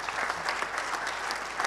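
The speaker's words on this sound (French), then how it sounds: "Vous pouvez applaudir tous ces gens qui nous ont permis de réaliser ça." A brief burst of audience applause at a round-table event, full and steady clapping from a sizable crowd with no speech over it.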